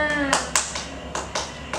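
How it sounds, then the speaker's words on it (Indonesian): A primary school class claps together after singing the national anthem, several loose bursts of hand claps at close range with a voice briefly audible at the start. "Ayo tepuk tangan untuk kita semua"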